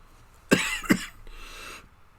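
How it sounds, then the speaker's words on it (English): Two harsh coughs come close together, loud and near, followed by a softer breathy rasp that trails off. "Apologize for the coughing."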